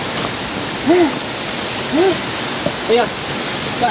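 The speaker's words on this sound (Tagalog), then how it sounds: "Ayun, falls yan." A steady, broadband roar of a tall waterfall fills the scene, with brief voices speaking over it.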